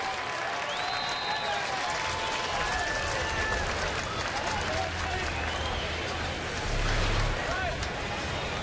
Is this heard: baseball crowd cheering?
yes